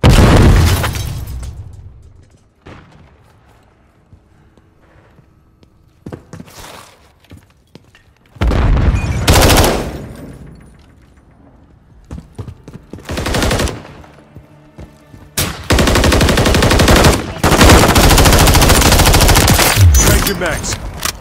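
Video game gunfire in Modern Warfare 3 team deathmatch, with loud sustained automatic bursts, heavy single shots and thuds in intermittent clusters, some long and dense, mixed with shouted voices.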